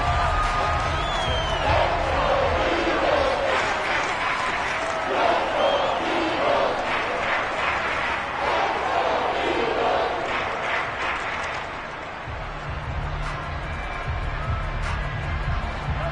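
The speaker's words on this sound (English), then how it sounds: "Plenty of shouts from this crowd as they watch the replay" Stadium crowd in the Madden NFL 22 football video game, a dense continuous roar of shouting and cheering with rising whoops, steady and loud throughout.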